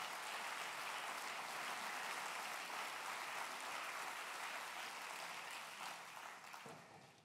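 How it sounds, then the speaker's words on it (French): A conference audience at a summer university event applauds steadily, a broad sustained wash of many hands clapping that fades out toward the end. "Vous pouvez aussi l'applaudir comme vous avez applaudi Jacques."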